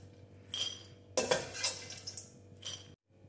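Roasted flaxseeds tipped from a kadhai onto a plate, giving bursts of clattering metal and scraping against the dish, with a louder rattling spill in the middle and a short final scrape before it stops.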